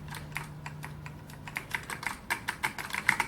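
Typing on a SolidTek ASK-6600C white ALPS mechanical keyboard, close up, with a steady run of crisp clicky keystrokes that grow louder and sharper toward the end, alone without talk.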